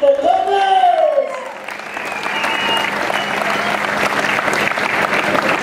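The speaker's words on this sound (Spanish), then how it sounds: "aplauso para los jinetes, que se escuche el aplauso a los intocables" Rodeo crowd at a ranch bull-riding event in Ocuituco, Morelos applauding the riders, a dense wash of clapping lasting several seconds after an announcer's voice fades at the start.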